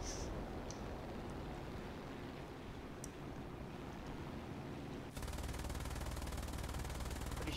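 Faint machine-gun fire in the video game War Thunder, steady rattling under a constant noise bed, with a dense burst taking over toward the end.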